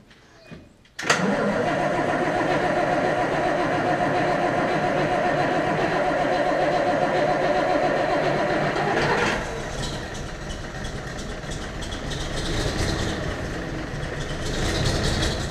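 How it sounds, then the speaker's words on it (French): A tractor engine fires up after a short quiet moment, then runs continuously nearby with a rough, uneven beat, misfiring on three cylinders, its tone dipping slightly partway through and carrying on steadily without voices. "une fois que le moteur est lancé, on voit qu'il tourne sur 3 pattes, sur 3 cylindres"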